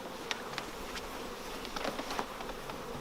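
Honey bees buzz faintly around hive frames during a honey harvest, a thin, continuous drone with occasional brief louder passes close by, and no voices.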